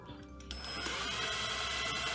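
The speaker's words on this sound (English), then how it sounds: "we will also drill a hole to the bottom part of our plastic bottle" Small drill boring a hole into the bottom of a plastic bottle, a steady whirring grind that starts abruptly after a brief quiet moment and holds close and fairly loud to the end.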